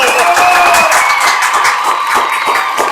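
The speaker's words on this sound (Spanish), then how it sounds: "Un aplauso para ella nuevamente." An audience applauds a guest during a podcast recording. The clapping is loud and sustained from start to finish, mixed with some steady tonal sound.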